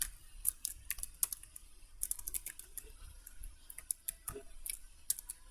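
Quiet typing on a computer keyboard while coding a Python password manager, with irregular bursts of light key clicks and short pauses, close and soft, no talking.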